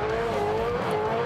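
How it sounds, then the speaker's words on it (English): A Supercars race car, shod with worn Dunlop soft tyres, doing a burnout at the Gold Coast 500, heard as a loud, sustained engine drone holding a steady high pitch with a rough tyre roar underneath. "That is a burnout."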